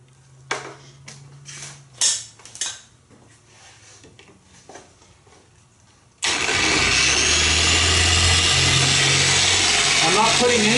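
A car paint polisher runs steadily at speed 1 with a lamb's wool wash mitt on a wet painted surface, starting abruptly as a loud, continuous whirring drone after a stretch of quieter taps and handling noises.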